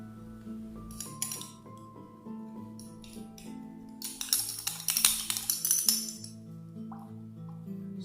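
Metal spoon clinking against glassware while a quarter spoonful of calcium oxide is scooped, a run of sharp light clinks and taps that bunch up in the middle, close and fairly clear over a low steady hum.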